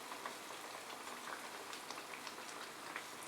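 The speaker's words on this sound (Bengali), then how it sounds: "মাঝারি আঁচে আমরা মালপোয়াগুলোকে ফ্রাই করব।" Malpua batter frying in a pan over medium heat, giving a steady, soft sizzle and fine crackle throughout with no talking.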